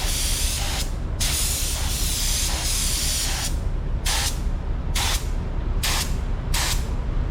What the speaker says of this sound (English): we're gonna do a little test spray